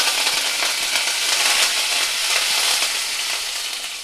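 Urad dal and curry leaves hit hot oil that already holds popped mustard seeds, giving a loud, dense, crackling sizzle that stays steady for several seconds with sharp spits throughout.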